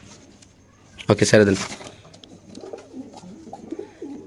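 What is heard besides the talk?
pigeons cooing in a cage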